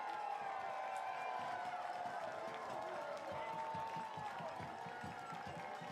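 A baseball crowd at Walker Stadium getting noisy during a Portland Pickles versus Corvallis Knights game, a distant, faint wash of cheering and rhythmic clapping with an announcer talking over it.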